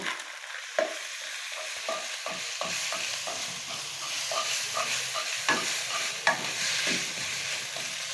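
Boiled spaghetti fries in a pan with browned ginger and garlic, giving a steady, close sizzle broken by repeated scraping and stirring strokes, with no talking.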